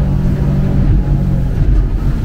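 A Yellowfin 7600 Southerner boat's engine runs at high throttle, a loud, steady, low roar with a constant droning hum and no break.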